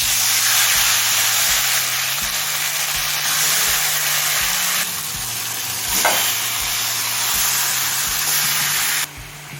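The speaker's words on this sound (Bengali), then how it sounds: "এবার মেখে রাখা চিকেনটা দিয়ে দিচ্ছি" Marinated chicken hits hot oil with whole cumin seeds for chicken kosha, giving a loud, steady sizzle and hiss that continues close up throughout, with brief stirring shifts and no talking.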